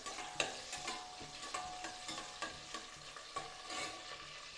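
Onions frying in oil for tomato bath, a faint, close crackling sizzle with a regular rhythm of spatula strokes scraping the pan.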